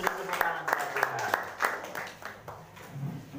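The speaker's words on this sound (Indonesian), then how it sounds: "Beri tepuk tangan kepada Tuhan." A church congregation claps in a loose, uneven burst, with distinct sharp claps standing out over scattered applause, fairly soft overall, with a voice speaking faintly underneath.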